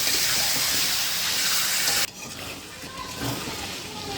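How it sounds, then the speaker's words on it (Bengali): Ginger, garlic and meat fry in hot oil with a loud, steady sizzling hiss, which drops sharply halfway through and then continues at a lower level. "আমি আদা রসুন আর মাংসটা তেলে ভালো করে ভেজে নিচ্ছি"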